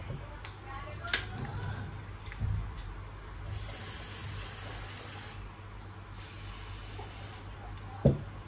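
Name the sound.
white grease spray applied to a Glock pistol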